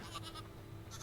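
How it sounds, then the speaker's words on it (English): Sheep bleat in the video game Hytale in a short, faint burst of wavering bleats, followed by a brief pause and then another quick cry, set against quiet ambient background sound. "Is it a little baby sheep noise?"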